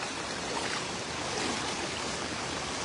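Strong floodwater rushing through a flooded village in Lemery, Batangas during a typhoon, a steady, dense roar of moving water filling the whole clip at constant loudness with no voices.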